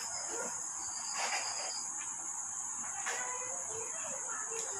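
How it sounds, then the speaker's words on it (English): Crickets chirp in a steady high-pitched drone over a constant noisy outdoor background, fairly faint and continuous throughout. "the tiny cricket sings very joyfully."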